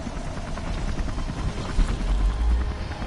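A helicopter in a video game thrums steadily as a dense, continuous rotor rumble, moderately loud with no talk.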